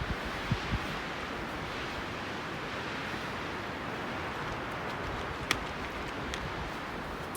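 Strong wind blowing across mountains in a Colorado winter snowstorm near Aspen: a steady, faint, broadband rush that goes on throughout with no talk.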